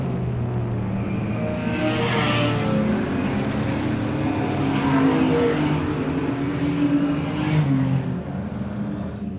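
Super saloon race cars roar around Beachlands Speedway in Dunedin, a sustained loud engine drone that swells and fades as cars pass, with no talking.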